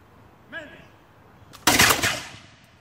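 A musket volley fired by a section of soldiers at a fort, one loud close blast with a rumbling tail, just after a shouted command.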